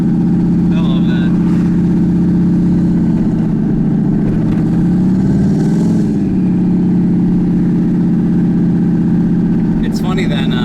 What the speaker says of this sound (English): I'm just driving through town. My work truck.